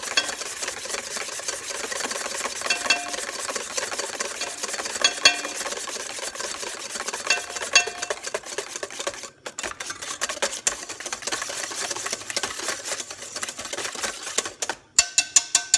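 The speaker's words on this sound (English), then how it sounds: "I'm whisking vigorously on my hollandaise while slowly adding my butter" A whisk rattles rapidly and steadily against a bowl of hollandaise sauce while clarified butter is slowly added, a continuous close scraping clatter with no speech.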